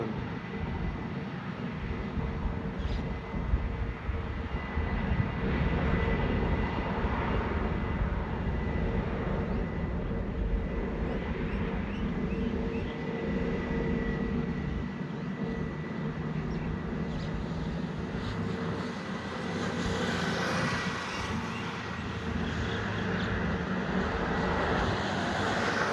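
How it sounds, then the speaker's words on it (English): A Sri Lankan Airlines Airbus A320 roars on its takeoff run at Delhi Airport, a sustained broadband engine rumble heard from the spotting area that holds steady for the whole stretch. "that roar from the engine after the throttle"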